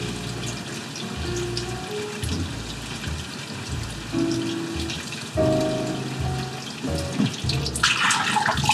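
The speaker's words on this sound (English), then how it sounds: "Dump all the water out." Water is poured out of a film developing tank while processing C-41 film, a continuous splashing pour that grows louder and heavier toward the end.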